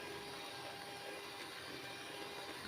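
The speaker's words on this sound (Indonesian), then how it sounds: "Ini di mixer sampai putih berjejak guysku" An electric mixer whirs at a constant high speed, beating steamed chocolate brownie batter in a bowl, a steady unbroken drone throughout with no talking.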